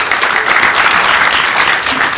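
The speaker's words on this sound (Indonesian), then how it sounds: "Tepuk tangan buat Sarah." Studio audience applause on a health talk show, dense and loud, a continuous roar of many hands clapping steadily throughout.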